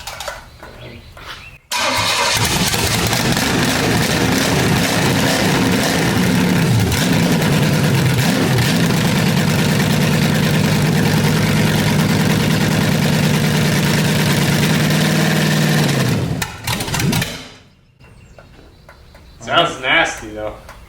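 A retired race car engine fires up and runs loud and harsh at close range for about fifteen seconds, then sputters and dies as it runs out of fuel, followed by a few spoken words.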